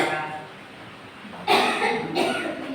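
Two loud, close coughs break out in a quiet indoor room, the first at mid-clip and the second about half a second later, after a stretch of low background murmur.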